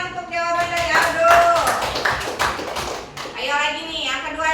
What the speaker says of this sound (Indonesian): Tepuk tangan untuk jawaban dari Aldo.